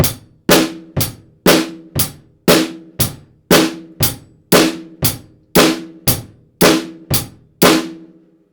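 Beginner drum pattern with the snare on beats 2 and 4, played at a quicker tempo: crisp, loud hits in a steady, regular alternating rhythm, each sharp attack decaying quickly, heard alone with no talking.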